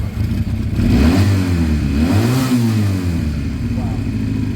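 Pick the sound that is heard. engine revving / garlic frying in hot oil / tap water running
engine revving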